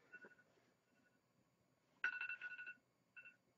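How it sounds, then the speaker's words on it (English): A phone's timer alarm rings in short electronic beeping bursts, faint and indoors, with a louder run of tones midway followed by a brief final chirp. "Oops, there goes my phone."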